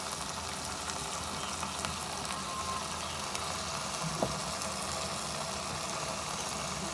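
Onions and tomatoes frying in oil for street-style kata kat, a soft, steady sizzle throughout with a single faint clink partway, quiet and continuous with no talk.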